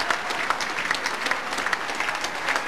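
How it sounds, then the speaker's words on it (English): A football crowd at a 1996/97 Plymouth Argyle v Stockport County match applauds as the teams leave the pitch, a dense, steady clapping from a large stadium audience with no voice over it. "So as the sides go off to a deserved round of applause"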